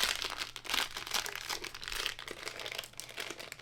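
Crinkly sealed blind-box plastic packaging rustles and crackles up close as it is pulled and torn, in quick irregular bursts.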